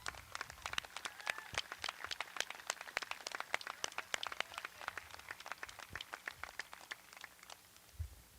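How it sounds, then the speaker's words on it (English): Audience applause at a 2021 university high school graduation ceremony: dense, steady clapping from many hands across the whole stretch, fairly close and even in loudness, with no talk over it. "I think they definitely deserve some applause for their hard work."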